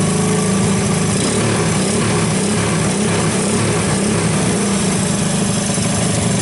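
A 1984 Honda ATC 200S three-wheeler, a carbureted single-cylinder running rich, idles steadily and loudly up close with an even mechanical drone and no speech.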